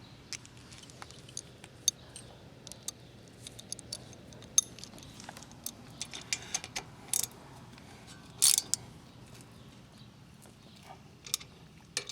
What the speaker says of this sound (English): Okay, so now take the 12mm socket.